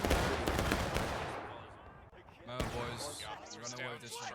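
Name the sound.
covering gunfire from War of Rights video game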